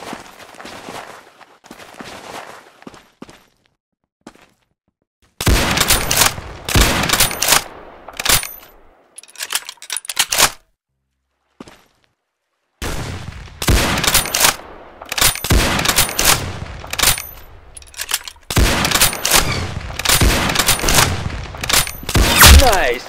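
Rapid gunfire from the Roblox shooter game Arsenal, loud bursts of automatic and single shots in several clusters separated by brief quiet gaps, close and dominant throughout.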